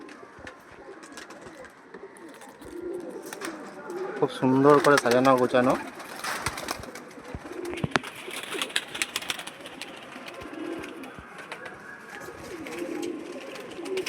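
Flying-breed pigeons in a fancier's loft coo with deep rolling calls that swell loudest for a burst in the middle, near and clear, while someone talks over and between them.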